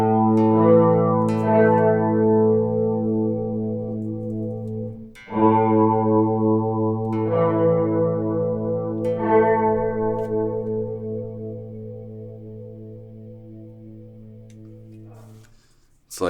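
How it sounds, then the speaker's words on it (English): Electric guitar through a Catalinbread Softfocus pedal in modulation mode, sustained chords shimmering with a fast chorus-vibrato wobble, one strum after another ringing out and decaying, played alone with no talking. "it's like a chorus slash vibrato thing happening"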